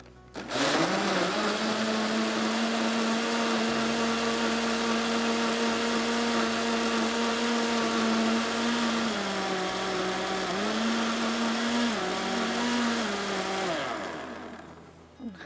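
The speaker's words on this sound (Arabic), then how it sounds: "نبدأ نشغل الخلاط." A blender blending mango and banana whirs loudly and steadily for about fifteen seconds, its motor pitch dipping and rising as the contents churn.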